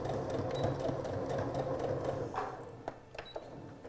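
Sewing machine stitching a straight seam at 2.5 mm stitch length: a steady, close mechanical whirr of rapid needle strokes for about two and a half seconds, then it stops, followed by a few quiet clicks and handling noises.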